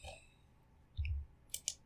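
Two quick, faint computer mouse clicks close together near the end, preceded by a soft low thump, with no talking.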